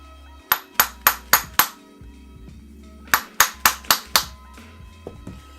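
An axle is hammered into a Stranger Crux V2 freecoaster hub in two sharp, metallic bursts of five rapid blows each, separated by a short pause, with a couple of lighter taps at the end.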